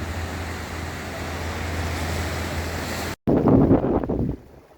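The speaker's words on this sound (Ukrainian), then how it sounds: "Море, звичайно, трошки бушує, хвилі" Rough sea surf and strong wind on the coast at Cervia, Italy, a steady roaring wash with heavy wind buffeting, cut by a brief dropout, then a louder close gust before it fades.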